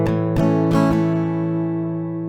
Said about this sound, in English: So A, and the strumming is down, down, down, down, up.